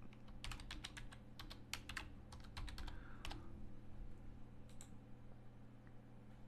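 Quiet typing on a computer keyboard, a quick burst of key clicks followed by a few scattered taps, close and alone over faint room hum.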